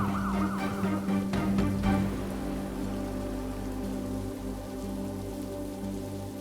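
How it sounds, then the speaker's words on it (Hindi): An ambulance siren wails loudly through the first two seconds over steady rain-like noise, then cuts off, leaving the hiss and a low hum. "ये यार बंद करो यार सायरन, पेशेंट अंदर।"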